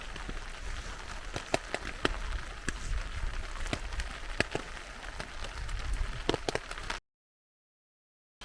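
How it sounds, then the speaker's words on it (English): Steady spring rain falls on a lakeside campsite, a dense even patter with sharper drops striking the surface, continuous and close for about seven seconds before cutting out. "Truly a spring rain."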